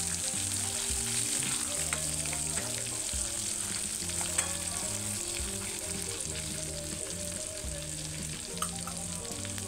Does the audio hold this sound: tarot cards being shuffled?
no